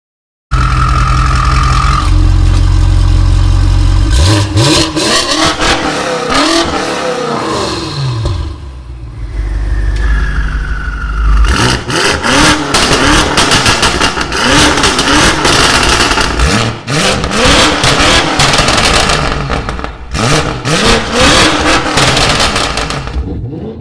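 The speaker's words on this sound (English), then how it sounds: "this powerhouse delivers an aggressive exhaust note, blending luxury with raw power and precision" A twin-turbo V8 car's exhaust roars loudly up close, rising and falling through repeated hard revs with brief lulls and crackling bursts between pulls, with no talk over it.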